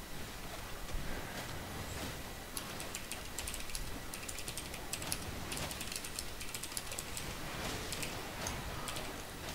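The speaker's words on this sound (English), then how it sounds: "Just typing some text that I'll be using in a future poll here." Rapid, irregular clicking of keys on a computer keyboard, close by and steady, with a faint background hum and no voices.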